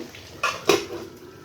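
A metal lid clanks down twice onto a cooking pot of simmering curry with potato, pointed gourd and fish, two short close knocks over quiet kitchen background, no talking.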